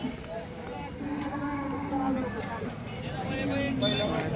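Cattle mooing at a busy cattle market in Sangola, with long low calls rising over the crowd noise as someone speaks over them.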